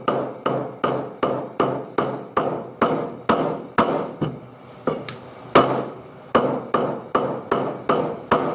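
A knife chops through pork rib fat on a board with a dozen or so loud, evenly spaced thuds, a brief pause breaking the steady rhythm before it resumes.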